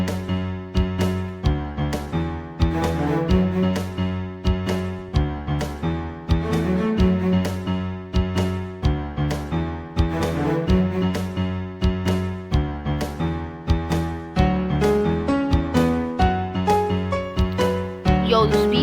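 The extended ending of a Geometry Dash song plays as dense electronic music with a punchy, steady beat and layered synth melodies, loud and continuous with no talking.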